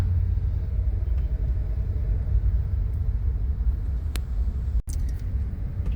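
Heavy multi-lane traffic on a Manila road, with many cars producing a continuous low rumble heard from inside a vehicle, steady throughout with a brief click near the end.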